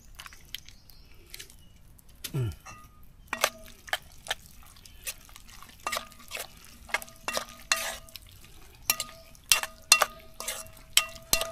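Food being stirred in a pan in a home kitchen, with ketchup added: a quiet run of sharp scraping and clacking strokes that comes in an uneven rhythm, close by, with a few faint voices between the strokes.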